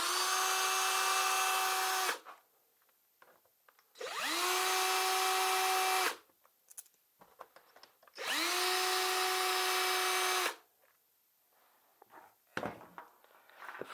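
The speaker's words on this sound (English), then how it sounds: "we need to remove these three bolts here on the bottom" A power tool whirs in three long bursts of about two seconds each while removing the mudguard bolts on an NRG50 10-inch KTM replica dirt bike, with clicks and handling noises between runs and no talking.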